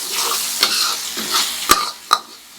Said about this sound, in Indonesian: kita aduk sampai matang